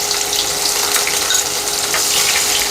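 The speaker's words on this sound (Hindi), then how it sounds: "इसे गोल्डन ब्राउन कर लेंगे प्याज को अच्छे से।" Sliced medium onion frying in a pot for Hyderabadi khichdi, a loud, dense and constant close sizzle crackling throughout with no voices.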